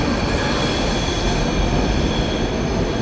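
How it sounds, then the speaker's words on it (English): A train pulls away from a station platform in Jaipur, its steady loud rumble and rolling wheel noise filling the scene without a break and with no voices. "That's a really quick acceleration from the station."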